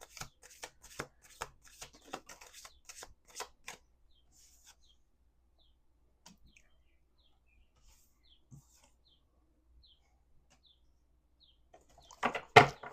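A deck of cards is shuffled in several quick riffling bursts at the start, followed by near silence and a brief rustle at the very end, with no talking.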